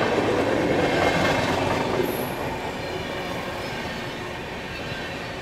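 Another train slowly overtakes the Magadh Express as it departs Mirzapur, heard as a steady close rumble of rail cars and wheels with a brief high wheel squeal near the middle, with no talk.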